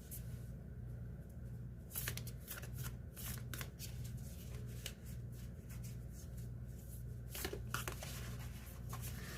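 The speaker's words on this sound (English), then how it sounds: "These cards are probably one of the hardest to shuffle" A deck of tarot cards is shuffled by hand in a steady stream of crisp riffling and slapping flutters, close and continuous for several seconds, with no talking over it.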